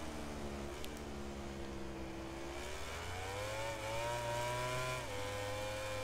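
A Suzuki racing motorcycle in the MotoGP 18 video game at the Qatar Grand Prix screams through its gears, pitch climbing and shifting as it accelerates, loud and continuous with no talk.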